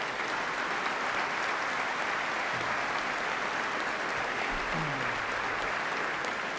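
Steady applause from a Basketball Hall of Fame enshrinement audience fills the hall, a dense, continuous wash of clapping that holds at an even level throughout without breaks.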